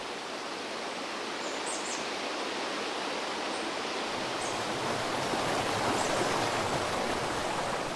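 Mountain valley stream at Baekyangsa temple, clear spring water gushing steadily over rocks, a dense, even rushing roar close by with faint bird chirps above it.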